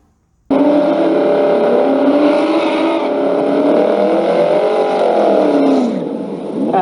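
A Camaro Z28 with an LS1 V8 roars loudly through a drag strip run, its engine note climbing and falling through gear changes, close and continuous with no talk.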